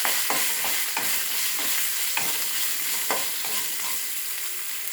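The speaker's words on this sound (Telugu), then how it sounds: "మీడియం ఫ్లేమ్లో వేయించుకుందాం. వేగాయండి." Green chillies sprinkled with salt fry over medium flame in a pan for bottle gourd chutney, a steady bright sizzle broken by several sharp scraping stirs of a spatula, close and continuous throughout.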